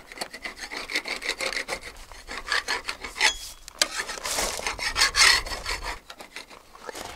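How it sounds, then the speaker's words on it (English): Loose, flaking paint is scraped off a narrowboat hull in continuous rough rasping strokes, close and fairly loud, with no talking. "I'm just trying to scrape off some of the loose pieces."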